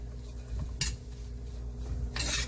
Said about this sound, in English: So we're going to saute this out.